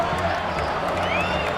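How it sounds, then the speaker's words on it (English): A ballpark crowd roars steadily in MLB 2K7 during a World Series game between the Pittsburgh Pirates and Cleveland Indians, a continuous wash of cheering under faint whoops. "the fans are still cheering"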